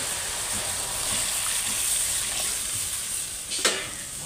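Water added to fried spice paste in a very hot wok for a silver carp curry, a loud, hissing sizzle and bubbling rush that holds steady, with a sharp splash or clank near the end.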